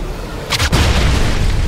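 A loud explosion in the 2009 Wolfenstein shooter, set in a hospital: a sharp burst about midway, then a heavy rumbling boom that holds on to the end.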